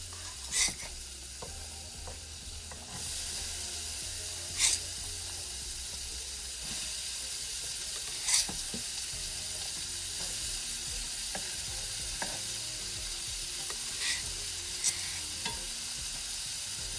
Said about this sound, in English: now that we've buttered the pan, we're going to add in the onions and the peppers